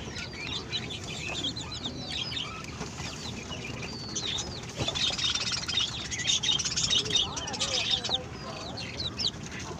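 Chicks and a hen in a rooftop coop in Chennai, with a steady chorus of cheeping chicks, some clucking and chirps from nearby fowl, continuous and fairly close throughout.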